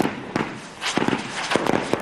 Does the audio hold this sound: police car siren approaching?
no